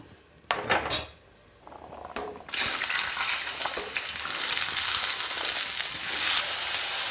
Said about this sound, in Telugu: నూనె శనగలు ఫ్రై చేస్తున్నాను